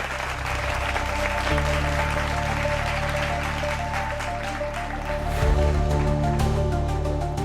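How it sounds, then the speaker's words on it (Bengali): Applause for Renuka in a CID office gathering, a steady dense wash of clapping sustained throughout over low background music, growing slightly louder near the end. "জোরদার হাততালি হয়ে যাক"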